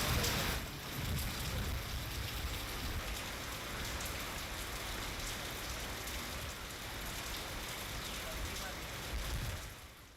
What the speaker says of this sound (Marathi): जवळपास अर्धा ते पाऊण तास ठाणेपाड्यासह परिसरात गारपिटीसह जोरदार पाऊस झाला।